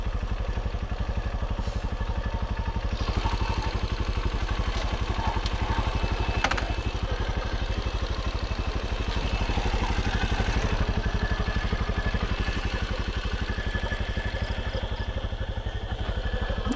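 A motorcycle engine idles steadily nearby, a continuous low putter with faint clattering, running alone without talk.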